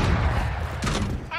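Gunfire from the Valorant shooter game crackles in quick bursts under loud, continuous voice chat, with a brighter cluster of shots near the end.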